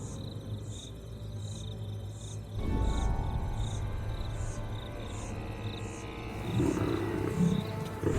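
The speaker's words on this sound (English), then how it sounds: "The thundering sound of a lion defending its territory can be heard from 8 kilometers away" A male lion roars in the wild, deep rumbling bursts rising twice over a steady, high, pulsing chorus of chirping insects.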